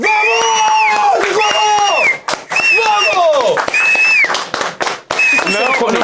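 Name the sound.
studio audience applause and cheering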